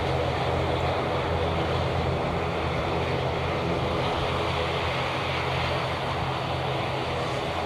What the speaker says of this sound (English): the Air France Embraer aircraft now heading onto the main taxiway to the active runway.